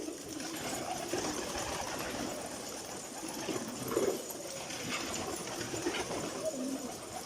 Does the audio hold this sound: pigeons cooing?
yes